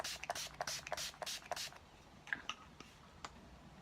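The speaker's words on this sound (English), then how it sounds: "I'm just gonna spritz my face with the All Nighter setting spray" A handful of quick, close spritzes of setting spray from a spray bottle onto a face in rapid succession, followed by quieter moments with a few faint clicks.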